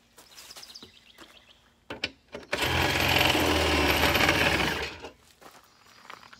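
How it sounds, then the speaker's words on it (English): A cordless drill driving travel trailer stabilizers up whirs steadily for about two and a half seconds, loud and close, framed by scattered clicks and handling knocks before and after. "along with my cordless drill. Makes this process a lot quicker."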